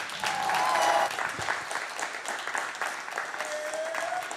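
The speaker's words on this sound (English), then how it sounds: "So just clap for my team one more time, y'all." An audience claps for the show's team in a brisk round of applause, loudest at first and then settling into steady, slightly thinner clapping, with a faint whoop or voice now and then.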